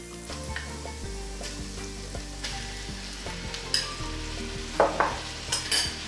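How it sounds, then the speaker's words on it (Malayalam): Ground lamb hits a pan of softened onion and garlic, sizzling steadily and loudly, with repeated stirring and scraping of a utensil against the pan and a few sharper clinks near the end. "ഇതിലേക്ക് നമുക്ക് ഗ്രൗണ്ട് ലാമ്പ് ഒന്ന് ഇട്ട് കൊടുക്കാം."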